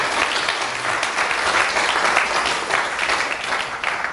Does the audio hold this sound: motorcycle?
no